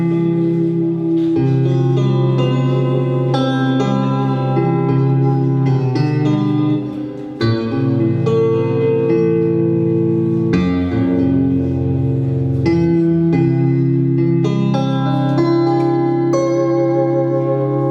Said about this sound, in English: here's a clean electric guitar sound